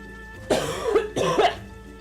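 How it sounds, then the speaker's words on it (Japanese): Two harsh, close coughs from a streamer, one right after the other, each a short rough burst with a throaty tail. "ああ咳がつらいな"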